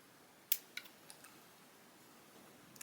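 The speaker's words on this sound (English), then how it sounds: "you're basically going to add the last bit of your scissors, and you're just going to snip nice and small right there" Small scissors give one crisp snip followed by a few fainter clicks while trimming a false lash strip, close and quiet in an otherwise still room.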